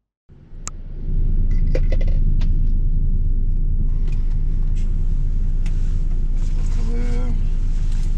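A truck engine cranks and catches, then settles into a loud, steady diesel rumble while the rig waits for rail loading, with a few clanks and brief background sounds over the drone.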